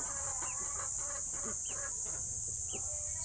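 Backyard chickens clucking: several short, soft clucks and calls spaced across a few seconds over a steady hiss of background noise.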